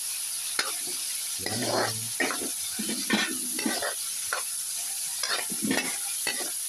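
Meat ingredients for pancit bato sizzle and fry in a pan, with intermittent bursts of stirring and spatula scraping over a steady hiss, close and fairly loud, with a brief spoken word.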